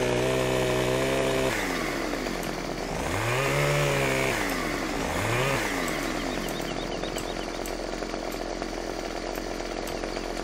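A chainsaw cuts branches in the video game Farming Simulator 15, its engine idling and then revving in swelling, pitch-bending surges before settling into a steady buzzing drone, close and continuous with no talking.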